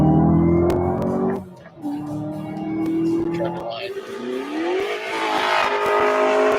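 A powerful car engine roars and climbs through gears, pitch rising and dropping as it accelerates, loud and close, with voices faintly underneath.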